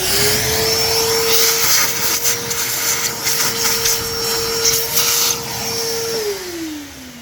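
A Dremel rotary tool fitted with a brush head whirring at a steady high pitch while cleaning rusty Kawasaki KX100 motorcycle clutch-side parts, loud and close with a scratchy brushing texture, then winding down in pitch at the end.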